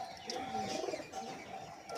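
Lotan pigeons in a home loft, one sitting on eggs, give soft, low cooing that murmurs steadily in the background, faint and fairly close, with no voices.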